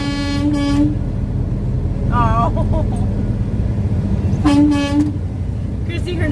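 A convoy of trucks honks on the road: repeated loud, sustained horn blasts, plus a short wavering toot in the middle, all over a heavy rumble of engines and traffic. Someone speaks briefly.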